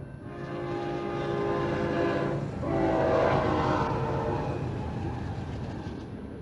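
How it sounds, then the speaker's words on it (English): A big train rolls past in Holbrook, Arizona, on Route 66: a loud, close, continuous rumble and roar that swells slightly midway and holds steady for several seconds, with no voices. "Fuck, that's a big train."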